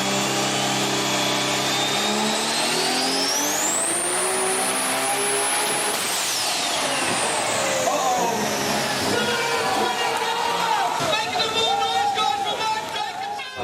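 A highly tuned Nissan R32 GTR with a 2.6 litre engine revs hard and loud, the pitch climbing in a long sweep, peaking, then falling away before sharp bursts and crackles, with talk beneath.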